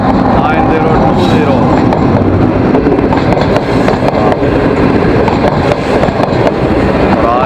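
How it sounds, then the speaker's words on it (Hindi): A passenger train, the Qaraqoram Express, approaches Jahania station with a loud, continuous rumble and rattle of wagons. The clatter is close and sustained throughout. "ये ट्रेन अप्रोच बना रही है जहानिया।"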